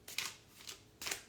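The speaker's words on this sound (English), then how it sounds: "I'm going to shuffle the cards now." A deck of cards is shuffled by hand in three quick riffling bursts, close and fairly quiet, with short pauses between them.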